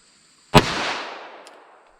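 .45 ACP Gold Dot round fired over a chronograph: a single sharp, loud gunshot with a broadband crack and a decaying outdoor tail, a small click following shortly after.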